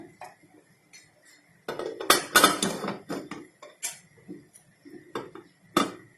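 A pressure cooker lid being closed without its whistle, a run of close metallic clanks and clinks, a busy cluster in the middle and a few isolated knocks after, in a quiet kitchen.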